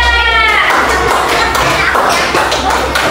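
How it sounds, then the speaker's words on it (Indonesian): A third-grade Islamic education class claps together in the classroom, a close, loud burst of rapid hand claps with light taps and thuds throughout. "Oke, beri tepuk tangan saya."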